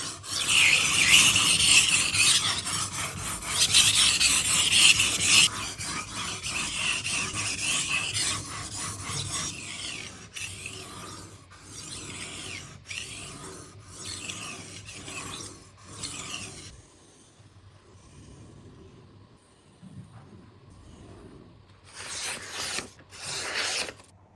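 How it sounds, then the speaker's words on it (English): Knife blade drawn repeatedly across the stone of a fixed-angle guided sharpener, a steady close rasping and rubbing in long strokes that grows quieter and more broken toward the end, with no talk. "Now, with the ShaperCut guided sharpener, the angle stays fixed and consistent."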